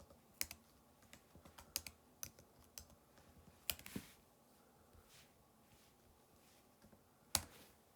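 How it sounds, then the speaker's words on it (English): Keys clatter on a computer keyboard in irregular bursts, sharp close clicks separated by gaps and softer taps, fairly quiet overall with no talking. "So this will take a while for me to type out."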